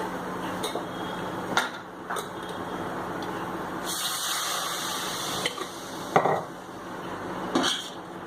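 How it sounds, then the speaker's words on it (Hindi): A pan being scrubbed on a kitchen stove with a little water added, giving steady wet rubbing and scraping with occasional metallic clinks and splashes, fairly close and continuous. "इसे मैं रगड़ूंगी। थोड़ा सा पानी भी डाल देंगे इसमें"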